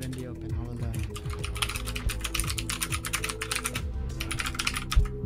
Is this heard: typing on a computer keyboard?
yes